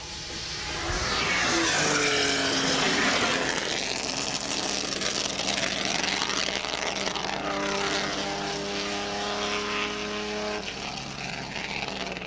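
Race car at speed on the Bridgehampton track, its engine roaring loud and close throughout with shifting whining harmonics as it sweeps downhill under the bridge toward braking.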